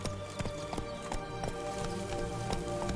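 Horse hooves clip-clopping steadily on the ground in The Witcher 3: Blood & Wine, a regular trotting rhythm of sharp close knocks over continuous game ambience.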